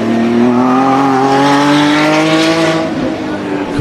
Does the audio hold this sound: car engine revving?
yes